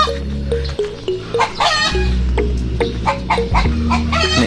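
Chickens cluck loudly and close by in repeated short, rhythmic bursts, several birds overlapping over a low background hum.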